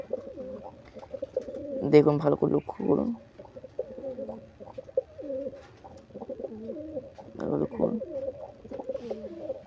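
Pigeons coo in low, throaty bursts nearby, a few calls spaced across the clip, while someone talks over them.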